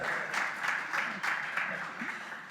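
Audience claps for an event's organiser and her volunteers, fairly soft applause with a few distinct bursts and some voices mixed underneath.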